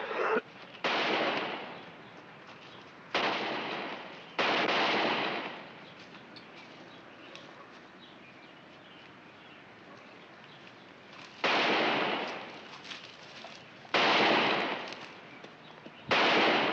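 Real-bullet gunfire in a Western shootout comes as several separate bursts of loud, sharp shots, with quieter gaps between the volleys and no talking.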